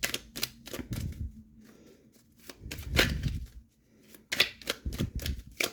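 Quick bursts of tarot cards riffling and flapping together, several shuffles in a row with short pauses, close and crisp.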